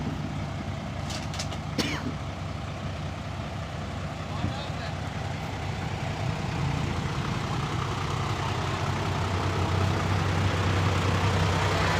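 Pickup truck being backed out, giving a steady low engine rumble that swells slightly over time, with a brief clatter early on.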